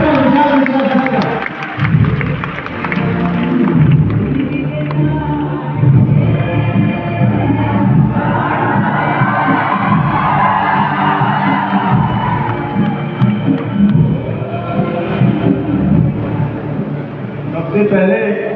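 Large crowd cheering and applauding loudly to welcome a speaker at a gathering in Prayagraj, a sustained roar of clapping and shouts with an announcer's voice over it.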